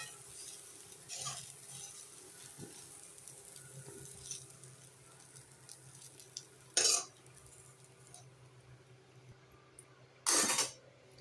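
Cauliflower pieces frying in hot oil in a pan while being stirred: a steady, low sizzle with two sharp, brief clatters of the utensil against the pan near the end.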